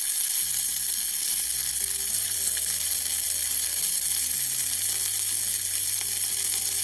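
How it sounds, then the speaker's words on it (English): Beef sizzles and fries in a teaspoon of oil over high heat, a steady, dense, crackling hiss heard up close with no talking, while quiet background music plays underneath. "Keep the high heat on, and I use 1 teaspoon of oil to have the beef fat render."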